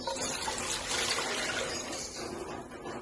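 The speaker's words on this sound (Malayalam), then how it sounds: "നമുക്ക് വെള്ളം ഒഴിച്ച് കൊടുക്കാം" Water pours into a cooking pot for prawn biryani in a short, steady gushing splash, close and moderately loud, with no voices.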